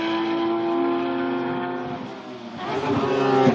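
A race car engine at Laguna Seca during a Gridlife FCP Euro championship race holds a loud, steady tone, then surges louder as it accelerates past.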